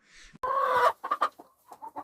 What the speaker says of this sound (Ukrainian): Півень піде на суп, а кури будуть нести яйця.